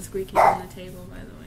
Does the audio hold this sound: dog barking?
yes